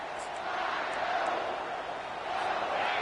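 A stadium crowd in a college football video game roars steadily and loudly, a dense wash of cheering voices that fills the whole space.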